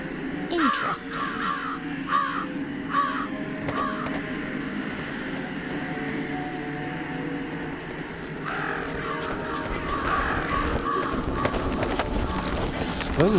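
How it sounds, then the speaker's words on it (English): Crows caw in the video game Jenny LeClue, a few harsh calls repeated in a row, then another cluster later, over steady ambient game background. "Those are some heavy crows."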